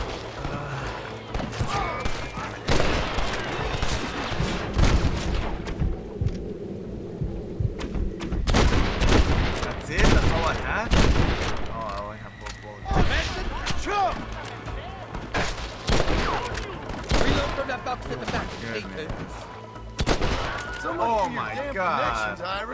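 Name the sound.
gunfire in the Red Dead Redemption video game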